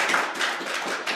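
Audience applause following a university presentation: a steady, dense patter of many hands clapping that fills the whole short stretch at an even level, with no voices over it.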